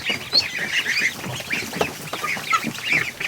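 Geese honking inside a barn where newly hatched ducklings have been moved, with repeated nasal honks and calls overlapping throughout, fairly close and busy, mixed with other fowl sounds.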